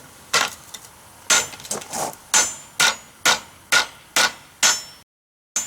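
Steady hammer blows on hot steel for a forged fireplace shovel head, about eight sharp metallic strikes with brief pauses, close and loud, then silence.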